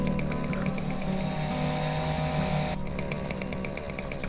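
A video game chainsaw in Dinosaur Fossil Hunter revs in a loud, continuous buzzing whine, holding a steady drone through the cut, with a rhythmic rattling texture and no talking.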